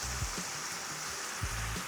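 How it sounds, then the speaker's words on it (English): Pasta water ladled into a simmering tomato basil sauce in a pot, a soft steady watery rush with a few low thumps from the ladle, faint and close. "I just want to ladle in some of our pasta water"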